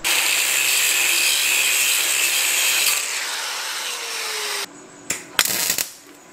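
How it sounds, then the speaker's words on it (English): A power tool saws through a metal tab on the steering tie rod of a small electric car, a steady harsh grinding whine that eases, then cuts off and leaves a few scattered clanks and scrapes. "just cut that tab off and twist it upwards"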